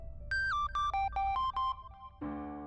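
A telephone rings indoors in a domestic drama, a short electronic melody of stepping tones. A swelling burst of background music follows at the end.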